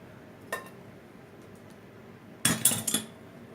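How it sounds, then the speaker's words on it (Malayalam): A spoon clinks against a mixing bowl while flour is stirred into carrot cake batter: one lone tap, then a quick cluster of sharp knocks near the end, with no talking. "ഈ ക്യാരറ്റിൻ്റെ ഈ മിക്സിലേക്ക് നമുക്ക് ഈ മൈദ കുറേശ്ശെ ഇട്ട് ഇളക്കി കൊടുക്കാം"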